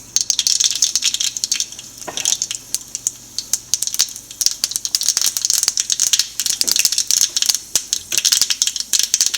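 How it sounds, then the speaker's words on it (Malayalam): Mustard seeds splutter in hot oil at the start of a green banana thoran: dense, rapid, close crackling pops in irregular bursts, steady throughout, with no voices. "കടുക് ഇട്ട് കൊടുക്കാം."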